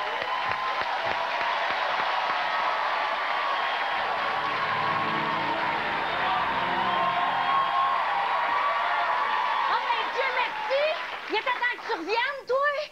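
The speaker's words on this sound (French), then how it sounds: "On peut l'applaudir, l'encourager." Studio audience on a year-end TV special breaks into sustained applause and cheering, a dense wall of clapping and whoops that runs throughout, with voices starting to talk over it near the end.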